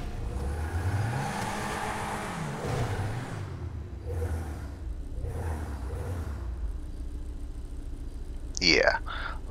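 Engine of a Declasse Rhapsody, modeled on the AMC Pacer, revving in GTA Online, a steady mid-pitched drone with rising and falling pulls under quiet talk, ending in a sharp rising whine.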